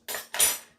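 A hot metal pan comes out of the oven with two close, sharp metallic clanks in quick succession, a brief rattle of bakeware against the rack.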